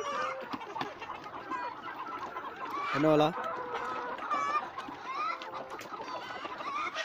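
Local village roosters and hens clucking and calling near and far, with a louder squawking burst midway, while someone talks over the flock.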